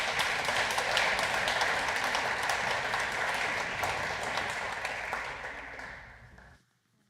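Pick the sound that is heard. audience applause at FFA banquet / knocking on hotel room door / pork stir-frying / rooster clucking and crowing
audience applause at FFA banquet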